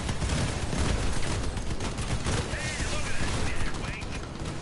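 Rocket launcher fire in the vehicle combat game Crossout comes as a dense, loud barrage of repeated blasts and crackling impacts, continuous and close throughout.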